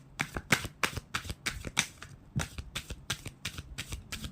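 Tarot cards shuffled by hand, a quick run of about a dozen crisp, rhythmic riffling bursts with brief pauses between, close and fairly quiet, with no talking.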